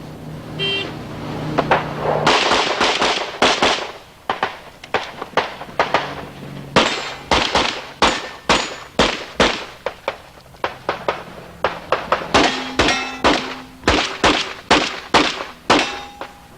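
Rapid pistol gunshots at a USPSA national practical shooting match in 1992, loud and close, firing in quick bursts and irregular strings with short pauses between strings.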